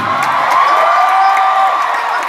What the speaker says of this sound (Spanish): traer un fuerte aplauso para el Mariachi 2000.